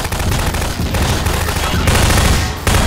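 Dense, loud gunfire from the Half-Life 2: Episode 2 video game fills the entire stretch as rapid, overlapping bursts with brief gaps.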